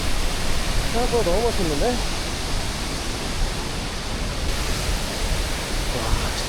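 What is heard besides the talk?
waterfall in Sri Lanka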